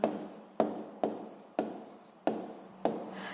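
Writing on a board during a physics lesson: six brisk, scratchy strokes in a steady rhythm, each starting sharply and trailing off, close and alone with no voices.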